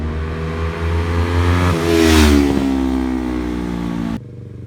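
A 2016 Yamaha YZF-R25 with a 250cc engine and cable throttle pulls along a straight road, its steady buzzing note swelling under acceleration and then easing, loud and close.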